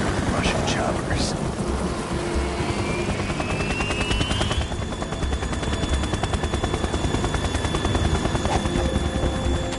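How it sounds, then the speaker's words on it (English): Russian military helicopters in the video game Metal Gear Solid 2 roar loudly with heavy, rapid rotor thumping over rain-like noise, continuous and close throughout. "Russian choppers."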